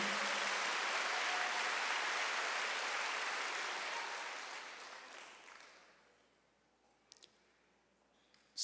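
A church congregation at a Korean Wednesday worship service breaks into loud sustained clapping that gradually fades away, leaving a quiet room with a few faint clicks.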